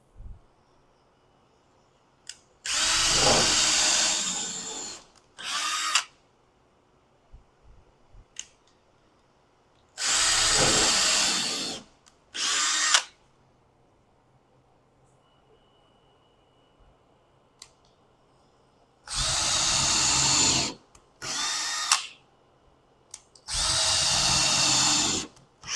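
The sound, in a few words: power drill pre-drilling holes in wood fence boards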